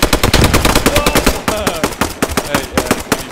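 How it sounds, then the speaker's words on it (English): Rapid gunfire from the World War II shooter Post Scriptum, with dense machine-gun bursts and sharp rifle cracks crowding each other without pause, loud and close throughout, and no talk over it. "They're shooting me big time."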